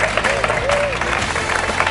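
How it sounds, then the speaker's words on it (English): A studio audience claps for a prize winner, a short burst of steady applause with a voice speaking over it. "Clap for Vasia."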